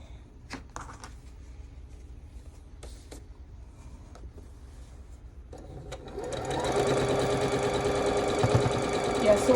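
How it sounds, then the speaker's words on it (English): A sewing machine stitching quilt pieces, starting with a few scattered handling clicks and rustles, then running in a steady loud mechanical whir for the last few seconds. "And then we'll sew these together."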